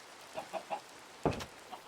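Chickens clucking in the video game Minecraft Cobblemon: three short, soft clucks at an even pace, then a louder, fuller squawk and one last faint cluck, with no talking.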